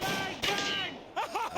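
Gunshots from the Kitchen Gun parody cleaning advert ring out as sharp loud cracks, two bursts close together with echoing tails, under and between voices.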